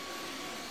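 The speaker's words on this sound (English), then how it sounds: "this is a great vacuum cleaner," Makita vacuum cleaner running, a brief steady broadband whooshing hum heard alone at close range.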